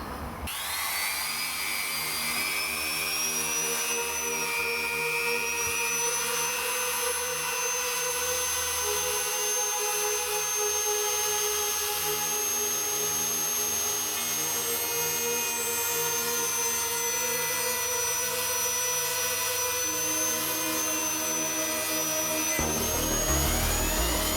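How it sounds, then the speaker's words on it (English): An end mill spins and cuts a shallow pocket into a guitar body, giving a steady high-pitched machine whine with sustained tonal hum and no break in the sound, ending with a brief shift as the cut finishes. "I'm going to set up the end mill. I'm only going shallow."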